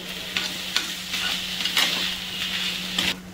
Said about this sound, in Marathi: मीडियम गॅसवर आपल्याला 4 ते 5 मिनटं छान असं खोबरं परतून घ्यायचं आहे